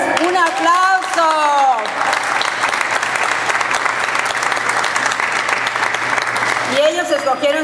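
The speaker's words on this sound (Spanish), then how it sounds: "¡Un aplauso!" An audience applauds a robotics team, a dense, loud, steady round of clapping that starts after a voice speaks and runs for several seconds before talking resumes over its tail.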